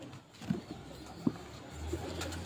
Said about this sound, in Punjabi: ਇੱਥੇ ਥੱਲੇ ਕਬੂਤਰ ਬੈਠਾ ਸੀ